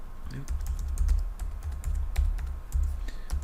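Keystrokes clatter on a computer keyboard as an IP address, username and password are typed in, a quick close-up run of taps with a low hum beneath.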